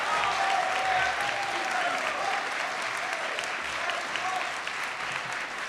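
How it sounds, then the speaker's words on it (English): Sustained applause from an audience at a physician assistant program graduation ceremony, a thick, even roar of many clapping hands that holds steady throughout, with faint crowd murmur beneath. "please stand so we can applaud your accomplishments"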